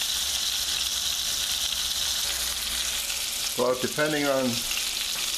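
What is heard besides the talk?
veal sautéing in a pan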